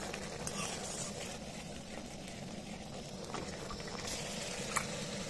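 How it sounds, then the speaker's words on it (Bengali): Masala for chicken chap fries on a low flame, a steady close sizzle and bubbling hiss that holds level throughout with a faint clink near the end. "এটা একটু ভাজা ভাজা হবে আর এটা খুব লো ফ্লেমে করতে হবে"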